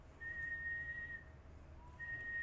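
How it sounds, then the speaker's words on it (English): A person whistles a clear, steady high tone, one long note held, then a brief pause and a lower note before the pitch rises into another sustained note, heard over low background hum. "so now if you whistle, who's that one that could whistle really well?"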